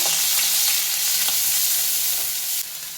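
Onion paste sizzling and frying with cauliflower, beans and carrots in a pan for a light fish curry, a steady close hiss with soft stirring scrapes, dropping slightly near the end.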